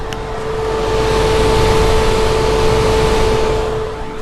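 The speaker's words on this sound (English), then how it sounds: "It's warm and the car is working hard to get charged at this V3." Tesla Model Y Performance charging at a V3 Supercharger in warm weather, a steady loud whooshing fan roar with two constant high-pitched whine tones, swelling slightly and then easing off, with no talk.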